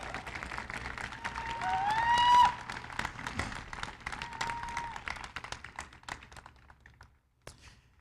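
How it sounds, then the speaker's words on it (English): A Veterans Day parade ceremony crowd applauds honored Gulf War service members, dense clapping that swells, then thins into scattered claps and fades, with a brief pause and a last few claps, faint background sounds beneath. "please give these individuals a warm round of applause"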